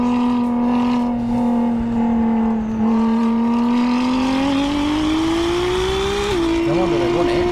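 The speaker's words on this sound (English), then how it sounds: "Whoa! This car is so fast." Fast stolen supercar in the video game Unturned, a loud steady engine hum rising slowly in pitch as it accelerates, with a brief shift near the end, heard continuously and up close.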